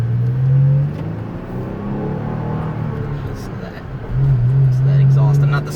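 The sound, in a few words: Toyota Tacoma TRD Pro manual truck exhaust accelerating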